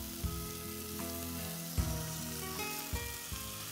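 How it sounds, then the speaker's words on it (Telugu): Boiled, ground spinach paste with green chili and pepper sizzles steadily in a pan of onions, a continuous close hiss with a few soft thumps and scrapes, no voices. "ఇప్పుడు పాలకూర పేస్ట్ వేసేద్దాం"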